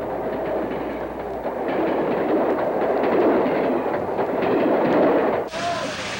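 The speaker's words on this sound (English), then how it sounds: "The rush and roar of a passing train filled spectators with awe" A passing train on a historic railroad rushes and roars as one continuous loud rumble, with a faint rhythmic clatter underneath. It cuts off abruptly near the end.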